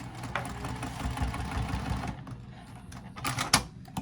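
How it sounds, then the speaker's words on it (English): A sewing machine backstitches a seam on a triangle pyramid wristlet pouch, its close rapid whirring running steadily for about two seconds, then stopping and returning in short bursts. "And then I'm actually going to backstitch over it."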